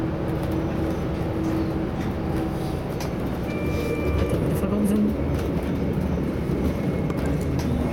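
A SWEG Lint 54 class 622 train running between Hechingen and Sigmaringen, heard from inside the carriage: a loud, steady rolling rumble that fills the whole stretch while people talk over it.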